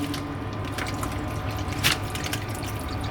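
Water pours steadily out of a wiring conduit aboard a sunken catamaran in a boatyard, a continuous splashing, trickling rush that stays close and constant, with one brief louder gush partway through.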